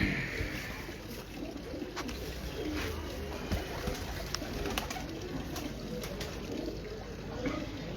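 Breeder pigeons coo softly on a Lahore rooftop, low and somewhat distant beneath steady outdoor background noise, with occasional faint clicks and no speech.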